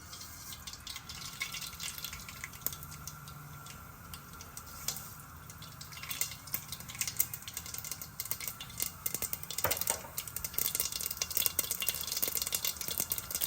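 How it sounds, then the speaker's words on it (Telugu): Mustard seeds crackle and pop in hot oil in a pan while cooking jowar upma, a steady scatter of small sharp snaps at low volume with no talking. "ఆవాలు వేసేస్తున్నాను"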